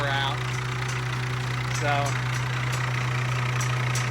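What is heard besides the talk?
car engine idling with worn, loose belts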